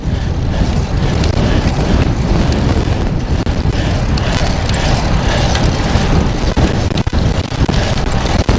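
Brutal gusting headwind of up to 54 mph roars across the microphone while biking south on the Historic Battlefield hike and bike trail in Brownsville, Texas, a loud, continuous buffeting rumble that fills the whole stretch and drowns out everything else.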